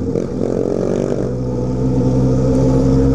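A Honda Hornet motorcycle ridden in light drizzle, its engine loud and close with a steady droning growl that rises slightly as it pulls along.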